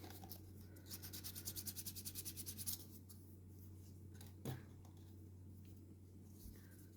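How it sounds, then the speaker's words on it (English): A brief burst of quick, rhythmic rasping strokes as a sanding stick smooths sprue nubs on a plastic model kit part, close and faint, followed by quiet background hum and a single soft tap. "just with a sanding stick. Yeah, just where this sprue was cut off. Little nubs. Just sanding those back."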